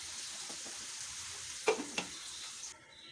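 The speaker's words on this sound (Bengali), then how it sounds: "এখন এর মধ্যে আমি ভিজিয়ে রাখা, ধুয়ে রাখা চাল আর ডালটা দিয়ে খুব ভালো করে এটাকে আমি কষিয়ে নেব।" Soaked, washed rice and lentils stir-frying with vegetables for khichuri, a soft continuous sizzle with a couple of sharp spoon knocks near the end before the frying noise drops away.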